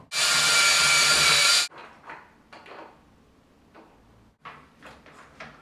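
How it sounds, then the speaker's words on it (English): A power drill bores a hole in a bifold closet door, a loud steady whirring burst lasting under two seconds, followed by quieter scattered taps and handling clicks. "There's where we're going to drill our hole."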